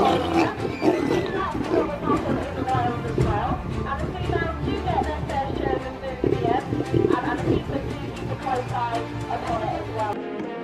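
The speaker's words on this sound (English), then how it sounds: "Inside a zoo, a lioness snatches meat, but the lion chases her down and reclaims his prize." A lion and lioness in a zoo roar and snarl while fighting over meat, loud, continuous growling and roaring with overlapping rough calls filling the whole span, close and dense with no pauses.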